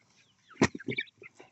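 Farmyard chickens give a short run of soft clucks, one louder cluck followed by several quieter ones nearby, during an evening feeding with food scraps.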